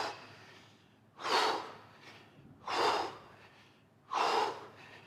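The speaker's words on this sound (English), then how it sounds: "Forceful breath out." Forceful breaths out during a kettlebell workout, three sharp, loud, close exhales spaced evenly about a second and a half apart, with quieter breathing between them and no talk.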